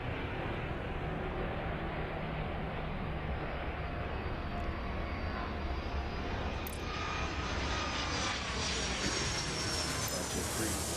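A commercial airliner rolls down the runway and takes off in the airport simulation game Airport Madness, its engine roar steady and broadband across the whole stretch, with no voices over it.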